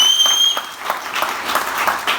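Audience clapping fills the room in a steady, moderately loud burst of applause from a seated crowd at a business seminar, continuing for a couple of seconds without talk over it.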